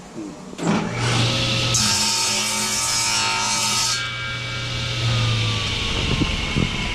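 A saw cuts through a scrap piece of fence board in a shop, a steady rasping stroke running for several seconds with a low motor-like hum beneath, loud and close, ending with a few light knocks.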